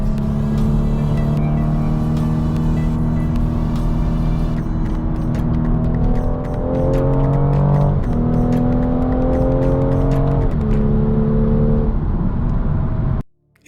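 A 2018 BMW M240i xDrive accelerating hard, its engine tone climbing through rising harmonics, dipping briefly at each gear shift and then pulling up again, loud and close throughout before cutting off abruptly at the end.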